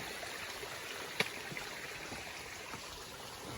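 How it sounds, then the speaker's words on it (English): A small stream of water trickles steadily down a drainage beside a wooded Appalachian Trail path. The flow is faint and continuous, with one brief sharp tap partway through. "It's nice little water drainage down through there."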